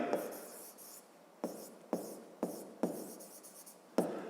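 Pen or pencil writing on paper up close, a run of scratchy strokes coming in short bursts with brief pauses between them, about six or seven distinct stroke groups, no talking.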